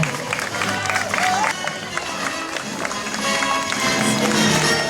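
A crowd at a knights' tournament applauds in a dense, steady wash of clapping and cheering that keeps going throughout, with an announcer's voice over it.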